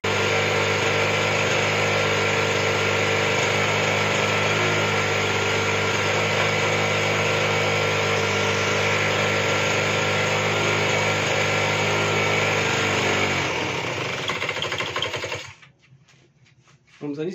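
A two-stroke engine with a new, flooding carburettor idles at low revs with a loud, close, buzzy drone. It holds steady for a long stretch, then falters and stutters before stalling into near silence.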